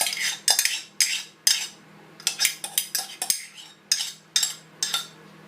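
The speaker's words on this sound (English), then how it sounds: "We're going to be mixing that together in a bowl" A spoon clinks and scrapes against a bowl while honey and agave nectar are mixed together, a steady run of rhythmic clattering strokes, close and fairly loud, with no talking.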